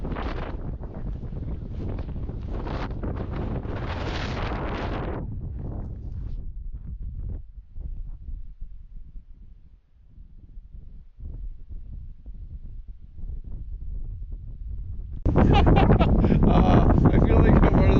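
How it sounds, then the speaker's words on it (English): Strong desert wind buffets the microphone in loud, roaring gusts at the start and end, easing to a lower, uneven rumble through the middle. "It's like so windy."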